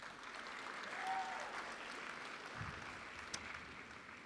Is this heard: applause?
yes